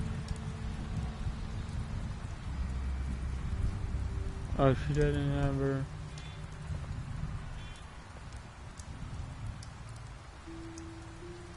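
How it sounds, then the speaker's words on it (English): Steady rain in the video game The Wolf Among Us, a continuous soft wash of falling drops under a brief spoken line and game music. "Well, now all of a sudden it starts raining"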